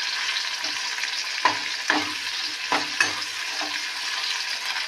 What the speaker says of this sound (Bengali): এই শুকনো লঙ্কা আর পেঁয়াজটা ভালোভাবে আমি